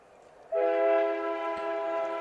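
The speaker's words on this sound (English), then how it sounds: "the choo-choo train makes an appearance" Train horn sounding near a high school baseball field during a game, a sustained loud blast that starts abruptly and holds steady for over a second and a half, heard at a distance with no talk.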